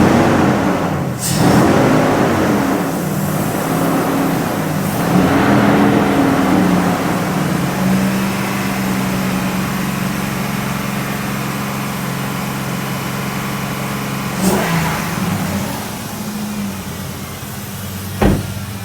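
A 4.7L engine with a knocking problem held at about 2,500 RPM, a steady loud droning hum with a few sharp ticks and clicks on top, heard close up with no talking.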